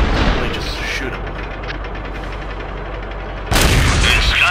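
A tank cannon fires in World of Tanks during a random battle, a heavy low rumble of engine and battle noise, then a sudden loud blast near the end.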